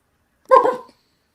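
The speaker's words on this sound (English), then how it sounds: "That's a nervous ass dog in a sweater, Alex." A nervous dog in a sweater gives a single sharp, close bark, short and clear against otherwise silent surroundings.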